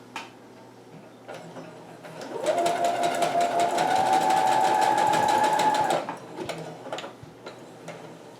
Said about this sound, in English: we just put the brief leg over like this and then sew all the way around.